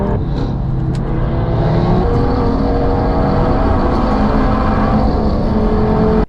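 A Mercedes C63 S AMG wagon closes in fast from behind on the Nürburgring, its engine roaring loud and steady throughout, with a rising note and gear changes over continuous road noise.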